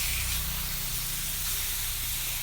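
Steady loud hiss of catfish pieces frying in hot oil with curry paste, continuous and close, with no voices.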